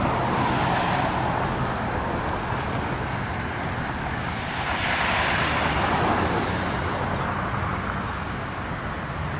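Road traffic streams along Route 99 in Everett, Massachusetts, a continuous loud wash of tyre and engine noise with a passing vehicle swelling midway, no voices.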